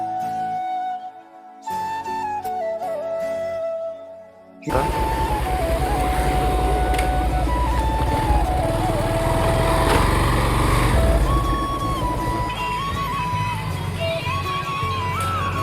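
A small motorbike engine drones loudly and close after a quieter opening, its pitch rising and falling as it rides over potholes with some rattling from a loose nut.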